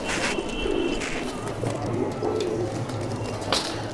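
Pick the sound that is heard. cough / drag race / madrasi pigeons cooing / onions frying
madrasi pigeons cooing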